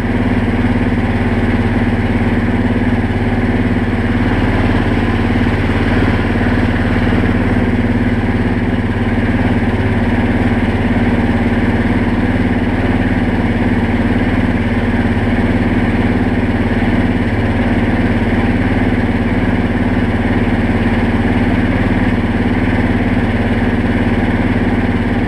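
A car engine idles steadily during a coolant change in a well-ventilated work area, a loud, constant mid-pitched hum with a faint mechanical clatter and no revving, running alone without talk.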